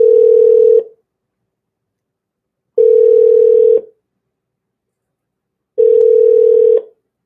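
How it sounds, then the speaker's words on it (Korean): A telephone ringback tone sounds while a call is placed, three loud steady beeps about a second long separated by roughly two-second silences. "경제호랑이 선생님께 전화 드려보는 겁니다."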